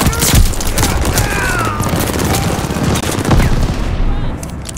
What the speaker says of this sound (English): Teammate called a bombing run